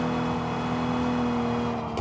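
Car engine in the arcade-style rally racing game Drive Rally, a steady droning hum with a constant tonal whine, holding at an even level throughout with no talk.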